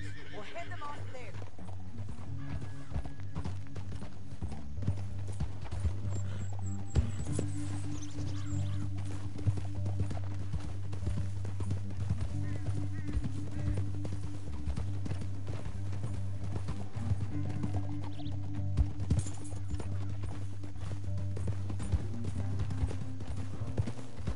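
Horse hooves clop along in a steady walking rhythm beneath a low droning hum, continuous and moderately close, in the video game Red Dead Redemption 2.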